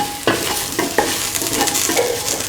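Garam masala and spices stirred into an egg, soya chunk, carrot and coconut milk stew in a pan: a constant close sizzle broken by soft knocks and scrapes of the stirring spoon.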